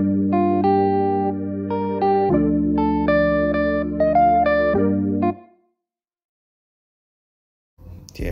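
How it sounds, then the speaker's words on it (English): A jazz guitar melody of bright picked notes and sustained chords over a steady low accompaniment, played with effects for about five seconds, then stopping into silence before a brief noise at the end. "I then came up with this jazz guitar melody, and this is to complement the rest of the melody."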